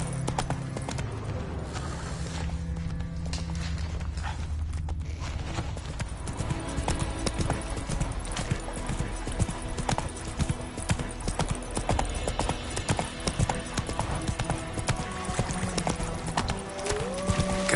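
In The Witcher 3, Geralt's horse Roach trots along, its hooves making a steady, close clip-clop rhythm that runs continuously over a low game backdrop.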